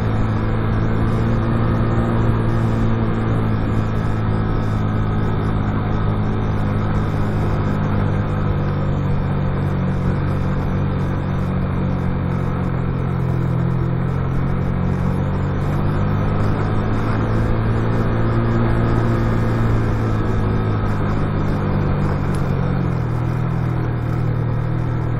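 A car descending a winding mountain road at night, its engine droning steadily with a low rumble and road noise that rises and falls slightly as it brakes through the bends, loud and close, with no voices.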